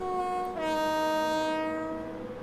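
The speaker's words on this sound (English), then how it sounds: "And I think if I take the brakes off, train's powering up." A Class 92 electric locomotive in the Train Simulator 2016 game powers up and departs: steady tonal whining hums shift upward after a brief dip, then hold and fade slightly as the train moves off, with no talking.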